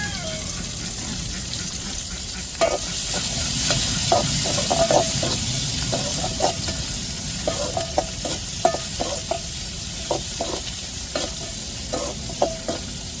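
Steady frying sizzle of onions and garlic in a pan with repeated scraping and stirring clicks, fairly close, no voices.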